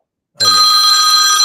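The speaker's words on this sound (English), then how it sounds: "Okay, that's the phone." A telephone suddenly starts ringing, with a loud, steady electronic bell tone that continues unbroken after a brief low sound just before it, alone and close.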